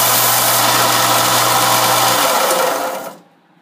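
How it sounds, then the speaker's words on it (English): Belt sander abrading a thin aluminum plate, a steady loud broadband grinding roar with a low motor hum beneath, running continuously for about three seconds before cutting off abruptly into near silence. "as I'm running the belt, I can easily tell the difference between abrading away this thin aluminum plate"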